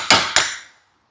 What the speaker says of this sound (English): We got to hammer them out.